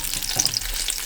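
Mushrooms being stirred and turned over in hot oil, a steady sizzle with scraping stir sounds, close and fairly loud in a short burst with no talking.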